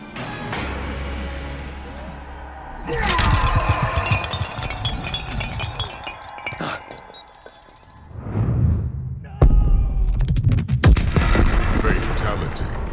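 Explosion in a Mortal Kombat 1 Kameo fatality: dense, rumbling blasts and whooshes swell and burst repeatedly, loud and close, with crashing impacts throughout.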